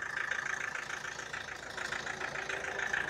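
An Opel Mokka engine idles with the hood open, a steady mid-pitched hum with a faint rhythmic tick running evenly throughout, fairly quiet and close.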